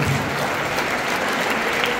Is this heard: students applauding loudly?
yes